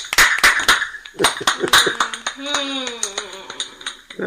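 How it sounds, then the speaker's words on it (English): A young girl claps her hands in quick, uneven bursts close by in a room, sharp dry smacks mixed with a ringing, pinging tone and some voice underneath. "My daughter over there clapping"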